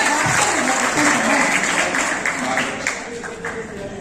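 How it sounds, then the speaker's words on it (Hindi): Audience at a municipal corporation Holi poetry gathering in Kanpur applauding, a sustained burst of many hands clapping close and loud, tapering slightly toward the end. "कुर्सी तालियों से आदेशित करिए"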